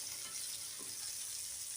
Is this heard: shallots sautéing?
yes